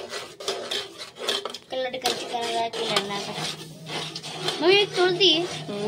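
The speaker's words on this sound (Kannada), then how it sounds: "ಈಗ ಮಸ್ತನತ್ತ ಫ್ರೈ ಮಾಡಕತ್ತೀನಿ" Garlic and chilli masala paste being fried in a pan, with steady clinks and scrapes of a spoon against the metal while a person talks over the cooking.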